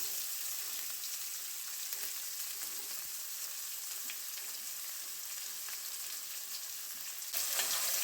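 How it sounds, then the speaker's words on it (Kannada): Beans and capsicum sautéed in an oil tempering with green chillies and curry leaves, giving a steady, soft, even hiss of frying that swells slightly louder near the end, with no voices. "ಅದಕ್ಕೋಸ್ಕರ ಇದನ್ನು ಚೆನ್ನಾಗಿ ಈಗ ಒಗ್ಗರಣೆಯಲ್ಲಿ ಬಾಡಿಸಿಕೊಳ್ತಾ ಇದ್ದೇನೆ"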